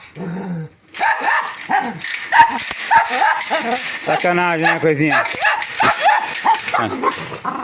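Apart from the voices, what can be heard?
dog barking and whimpering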